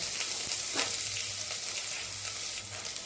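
Cumin, garlic, ginger and green chillies sizzle steadily in hot oil in a pan, a close, continuous frying hiss with a few small pops and crackles and no talking.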